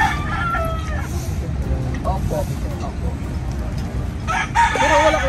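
At a busy market site a rooster crows loudly and close by near the end, after earlier clucking calls, with people talking through the clip and street noise underneath.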